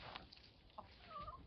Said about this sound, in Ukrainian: ось кури вирішили трішки пройтися